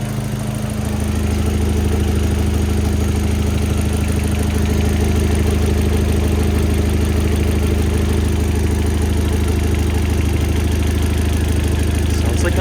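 A 1.8T car engine idles steadily just after its first start, a loud, close, even rumble with a constant low hum and fine mechanical ticking throughout.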